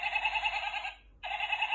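A goat bleats twice in long, steady, nasal cries with a brief break between them. The sound is close and clear, with no talking.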